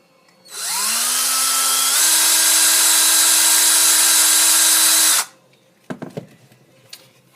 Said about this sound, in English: I like to drill my holes. So I drill where those two dimples are.